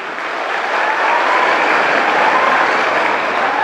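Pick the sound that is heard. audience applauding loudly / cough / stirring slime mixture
audience applauding loudly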